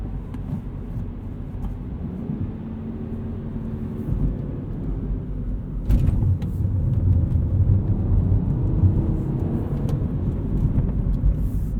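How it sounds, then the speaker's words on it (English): Heard from the cabin, a 2020 Mini Cooper Hardtop 2-Door Oxford Edition drives hard out of a corner. A steady low engine and road rumble swells as the throttle opens, with a few brief knocks along the way. "I got a little bit of wheel slip as I got back on the throttle, but just enough to properly apply power and pull out of the corner."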